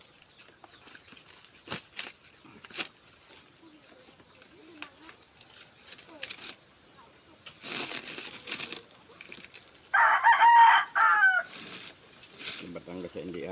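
Chickens clucking, then a loud rooster crow rising over scattered rustling and background sounds nearby.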